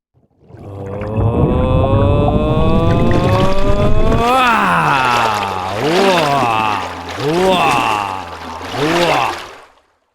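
A voice imitates underwater gurgling and splashing with warbling, gliding tones: a steady stretch, then several swelling bursts, close and fairly loud.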